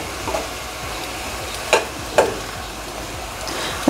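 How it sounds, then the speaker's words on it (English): Fresh spinach cooking down in a pan for spinach artichoke dip gives a soft, steady sizzle throughout, with a few sharp clinks or scrapes of stirring standing out, no talking. "we're gonna cook this down and try to get as much liquid out of it before we make the dip"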